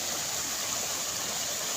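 A strong stream current rushes through a forest in Cavite, a steady, loud wash of flowing water that is close and continuous, with no voices over it.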